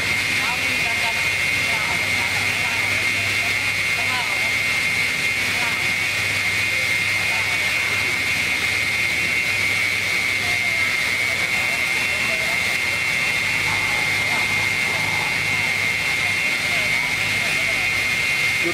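A water pump engine runs steadily and loudly throughout, a constant droning mechanical roar with a strong whine, unbroken from start to finish, while people talk over it.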